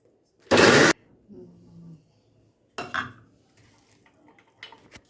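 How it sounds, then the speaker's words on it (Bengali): A small kitchen mixer grinder gives one short, loud whirring burst as it blends masala with coriander leaves, followed by quieter clatter and clinks from the jar and utensils. "তো আমি এটাকে ব্লেন্ড করছি।"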